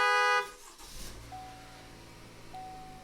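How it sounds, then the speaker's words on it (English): A GMC Acadia's alarm is sounding in bursts of horn honks and then stopping, followed by a quiet interior hum with a faint sustained chime tone. "as soon as you start the vehicle, it will turn the alarm off"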